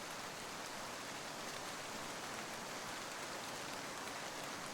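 Heavy rain falling steadily, a dense, even hiss of countless drops heard alone with no pauses, soft and uniform throughout.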